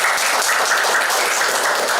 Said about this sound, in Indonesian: Tepuk tangan buat 2 orang